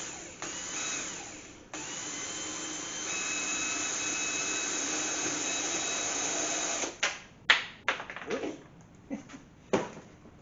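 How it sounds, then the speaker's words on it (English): An old, cheap 99-cent electric drill bores a hole through a car wing, its steady, fairly loud motor whine running for about seven seconds before cutting off, followed by a few scattered clunks and knocks. "we're going to just drill a hole right in the middle here"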